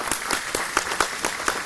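Audience applause for the caterers at a Tuskegee Airmen Day address: a few seconds of steady clapping with sharp individual claps, fairly near, with no talk over it.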